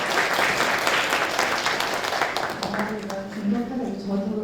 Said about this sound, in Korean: 발표해 주신 우리 교수님 다시 한번 박수 부탁드리겠습니다